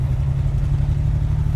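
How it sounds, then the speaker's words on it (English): Idling engine of a classic car fitted with a tube-style bullet muffler on the back, a steady loud low rumble with slight lumpy pulsing and no revving, heard close with no talk. "There's a tube muffler on the back, so it actually gives it sound like a bigger engine."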